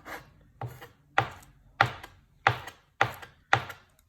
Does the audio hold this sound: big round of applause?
no